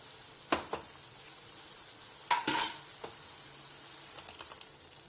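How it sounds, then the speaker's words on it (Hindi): Green chutney paste scraped into matar nimona in a pan, giving a few soft stirring and spoon-against-pan clinks with a faint sizzle between them, close by and without speech. "Now I'm going to add the green chutney paste into this."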